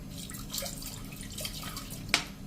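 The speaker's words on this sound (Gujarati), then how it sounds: "આપણે 1 ગ્લાસ જેવું પાણી મૂકશું" Water from a glass trickles and splashes faintly into a cooking pot on a gas stove, with small drips and one sharper splash near the end.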